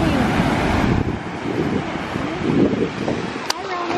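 Large ocean waves surge at a busy Florida beach on a summer day, loud and close, with gusting wind and muffled voices mixed in.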